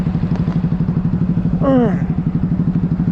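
A Honda Grom motorcycle fitted with a cheap aftermarket Yoshimura-style exhaust idles close by in a steady, fast, loud pulsing putter, with a brief voice heard over it partway through.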